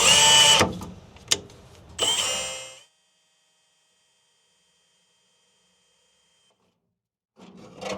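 A hammer drill bores a 6.5mm hole, with a few short loud bursts of whining, grinding drilling separated by pauses, then near silence before a final brief burst.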